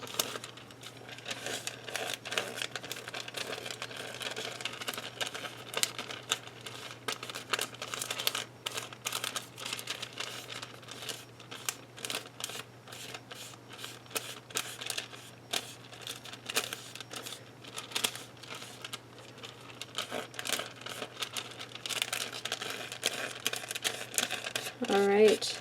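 Fingers rub wet paper off the back of a packing tape photo transfer, making soft crinkly scrubbing strokes that repeat steadily and faintly at close range.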